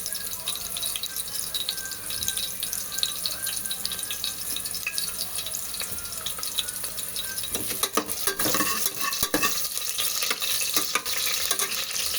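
A medium onion frying in hot oil, with a steady, soft sizzle and the scrape of stirring running throughout, plus a few sharper clicks and clatters toward the end.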